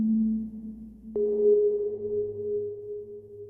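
A low sustained tone rings out, then a soft attack brings in a deep, pitched-down shimmering reverb tail that hums and slowly fades.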